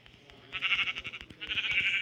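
Sheep bleat inside a village-building video game, a wavering animal cry swelling twice over a busy background of game sounds and soft clicks, moderately loud with no talking.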